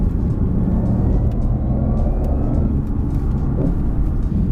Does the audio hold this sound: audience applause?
no